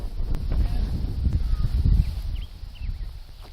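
Strong wind buffets a ZenFone 2 phone's microphone outdoors, giving a loud, gusty low rumble that swells and eases over a few seconds, with faint bird calls in the background.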